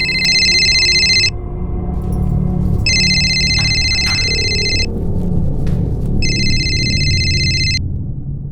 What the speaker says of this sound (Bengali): শুনছো, তোমার ফোন বাজছে।